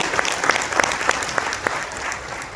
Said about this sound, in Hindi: एक बार जोरदार तालियां आप सबको दीजिए